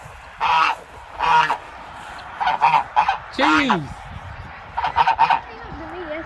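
Farm geese honking loudly and close, in repeated harsh bursts and clustered calls with brief gaps between them, and a person briefly speaking.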